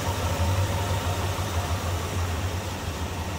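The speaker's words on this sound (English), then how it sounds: "Pretty stock looking engine bay. Smooth runner," A stock 1979 Chevrolet C20 Camper Special with a 350 5.7-liter V8 idles smoothly and steadily, a close, continuous low rumble with no talk over it.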